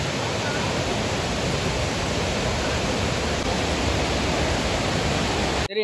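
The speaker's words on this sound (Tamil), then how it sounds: "தண்ணியை பாருங்க, அவ்வளவு அருமையா உழுந்துகிட்டு இருக்கு." Dense, constant rush of water plunging at Eruma Chavadi (Mekkarai) falls, a loud, unbroken roar heard up close with no pauses.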